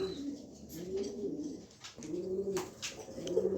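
A pair of racing pigeons coo in low, rolling phrases, two clear bouts close by with a soft pause between them, set against faint background rustle.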